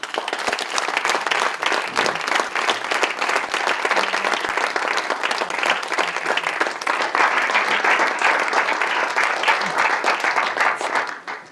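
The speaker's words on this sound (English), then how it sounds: "So also for them, a very warm applause." A graduation ceremony audience gives sustained, dense applause, steady and loud throughout with a slight fade at the end and no talk over it.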